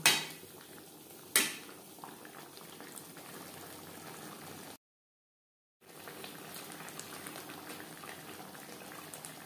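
Chicken curry with potatoes bubbles and simmers steadily in a pot over a high to medium flame, with a couple of sharp utensil clinks at the start and a brief gap midway.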